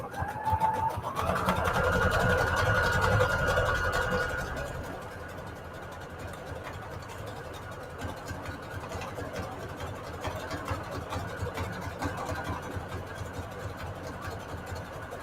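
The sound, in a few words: sewing machine sewing a scallop stitch on cardstock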